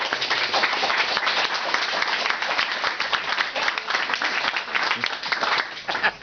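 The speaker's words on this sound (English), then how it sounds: "So we're going to start by asking you to applaud them" Sustained applause from an audience at a crime-fiction festival panel, dense steady clapping filling the whole stretch at a constant level with no pauses.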